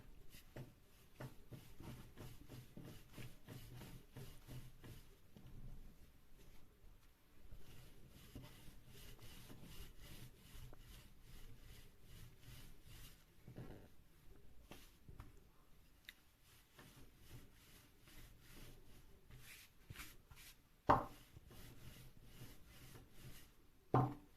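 Lavash dough being rolled out on a floured wooden counter, quiet repeated rubbing and rolling strokes in an uneven rhythm, with a few sharper knocks near the end.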